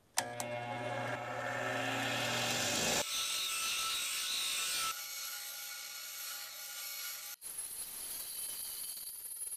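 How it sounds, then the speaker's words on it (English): Bench grinder tapering the tip of an old screwdriver, a close motor whine with gritty grinding in bursts as the metal is pressed and lifted, tone shifting between passes, without speech. "So I'm just going to use my bench grinder here."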